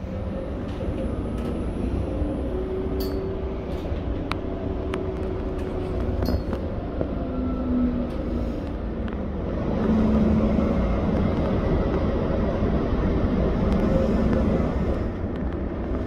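A CAF Urbos 100 light-rail tram of Transport Canberra rolls along with a constant low rumble and hum inside the carriage, swelling slightly louder midway, with faint squeaks and no talking.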